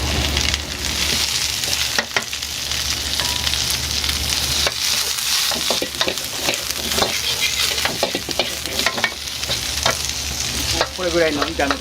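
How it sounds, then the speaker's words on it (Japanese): Champon ingredients are stir-fried in a wok at a busy student bento shop, with loud continuous sizzling and repeated scraping, clanking strokes of the spatula, close up and without talk. "これぐらいの炒め方で炒めてます。"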